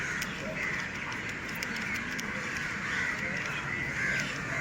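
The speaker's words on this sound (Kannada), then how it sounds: "ಸಂಜೆ ಆಗಿರೋದ್ರಿಂದ ಕಾಗೆಗಳು ಸೌಂಡು ಹೆಚ್ಚಾಗಿದೆ" Crows cawing in the evening, a steady chorus of harsh calls near and far over continuous outdoor background noise.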